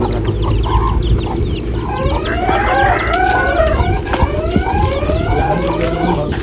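Desi poultry farm chickens and chicks fill the space with steady clucking and high chick peeping, with a rooster-like call now and then, loud and continuous against a busy barn hum.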